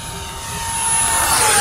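An RC BAE Hawk jet with a 50mm electric ducted fan passes at full throttle, its steady whine rising and growing louder as it approaches, with no talk.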